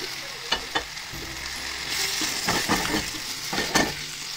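A golden fried ingredient goes into thick gravy where the oil has separated, and it sizzles and crackles steadily. Several sharp spoon-against-pot knocks and scraping stirs come through up close, with no talking.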